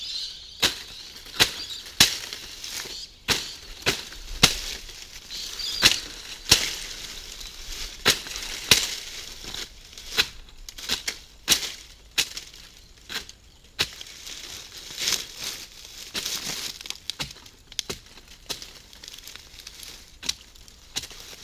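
Repeated sharp cutting and tearing strikes through the fibrous leaves of a tropical pandanus plant outdoors, irregular crisp snaps and rips spread over about twenty seconds, close and loud over faint background hiss.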